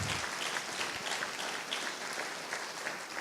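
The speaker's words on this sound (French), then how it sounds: "Encore une autre bonne main d'applaudissement, parce que c'est vrai ce qu'on chante." A church congregation claps steadily and densely throughout, a sustained wash of applause with no pauses and no voices standing out.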